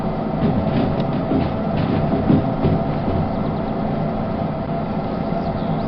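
A train locomotive in the Derail Valley game pulls four cars as the throttle opens, giving a loud, steady rolling rumble with rhythmic rail clatter and no talk.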